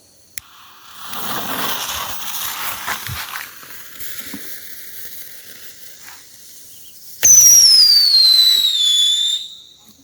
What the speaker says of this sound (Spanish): el pequeño cohete o silbador, como lo conozcan